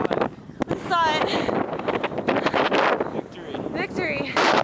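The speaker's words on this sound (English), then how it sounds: "It's so windy." Heavy wind buffets the microphone in loud, rumbling gusts throughout, with voices talking underneath, at sunset in a volcano national park.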